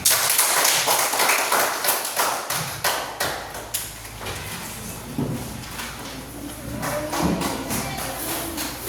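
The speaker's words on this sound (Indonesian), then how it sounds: "Kasih tepuk tangan." A classroom applauding a group's presentation, a loud, dense patter of many hands clapping together for several seconds with some thumps and taps mixed in.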